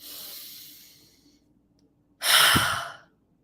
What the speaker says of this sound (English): One last deep breath